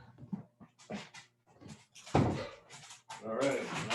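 Dogs move about a kitchen floor, whimpering and panting as they wait to be let outside, with a few yips in short bursts, close by and moderately loud.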